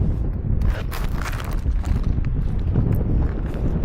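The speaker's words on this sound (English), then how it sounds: "the wind is crazy right now" Strong wind in a canyon during a climb: continuous, heavy low rumbling buffets close to the microphone, with gusty, uneven bursts and no talking.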